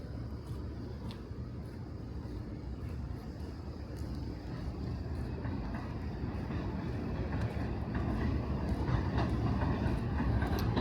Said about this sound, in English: That is not the cyclone, that is the train.